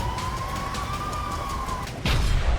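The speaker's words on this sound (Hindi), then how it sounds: "हालात ऐसे हैं कि इजरायल के कई शहरों में लगातार सायरन बज रहे हैं।" A single siren tone rises and holds over a rushing background, warning of attacks in an Israeli city, then fades as a louder burst of noise takes over near the end.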